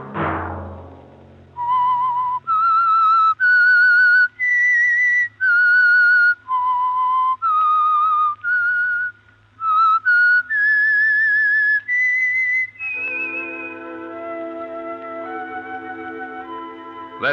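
A whistled radio theme, a lone clear whistle tracing a slow, eerie melody of held notes, loud and close, ending as orchestral music swells in.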